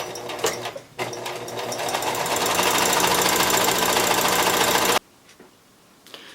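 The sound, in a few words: sewing machine stitching quarter inch fabric seam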